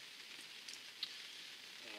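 Steady rain pouring on a carp fishing lake, a soft continuous hiss of drops with no let-up, fairly faint and even throughout.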